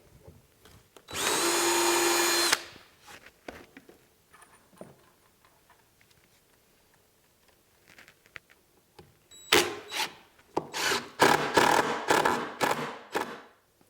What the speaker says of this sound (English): I'm going to get all these holes countersunk and get some screws in them